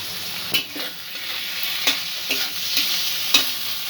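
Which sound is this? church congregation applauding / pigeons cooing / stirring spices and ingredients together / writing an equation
stirring spices and ingredients together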